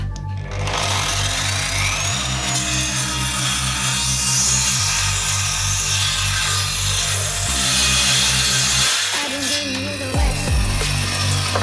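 A GRAND circular saw cuts wood at a 45-degree bevel, with a loud, steady motor whine that runs for about nine seconds. It winds down near the end, leaving a few quieter knocks.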